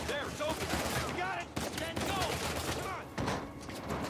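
Guards fire guns in Uncharted 4 gameplay, a dense stream of shots and impacts rattling under continuous music and a voice talking throughout.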